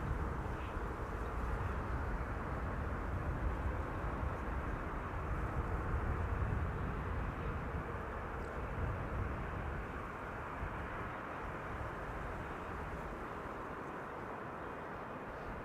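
An airplane landing at Amsterdam Schiphol Airport, a steady broad far-off roar of engine noise that slowly fades slightly, with no talking.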